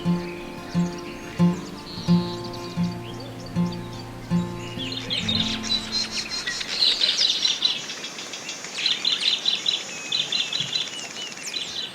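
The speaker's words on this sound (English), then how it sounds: "These cuckoos were everywhere, and it became very apparent why." Diederik cuckoos call in South Africa, a run of evenly spaced, repeated whistled notes in the first half, giving way to busier, higher chirping from other birds, moderately near with no talk.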